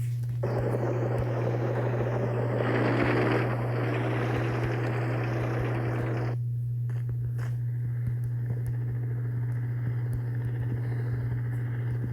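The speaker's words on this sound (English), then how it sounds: "What, that helicopter is flying itself?" A steady droning helicopter engine roar in the video game Simple Sandbox 2, with a constant low hum, loud and close, shifting in tone partway through as the whine drops away.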